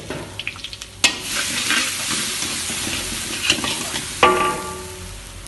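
Spices and turmeric fry in a pan for yellow rice, giving a steady close sizzle with scraping stirs and a couple of sharper clinks from the utensil.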